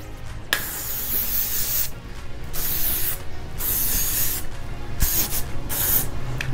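Several short hissing bursts from a spray bottle misting heat protectant onto hair and a brush, repeated at a steady pace with brief pauses between sprays, close to the microphone.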